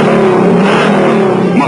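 A Ford Mustang Mach 1 V8 engine growls and revs steadily for a couple of seconds, loud and close, with a narrator's voice running over it throughout.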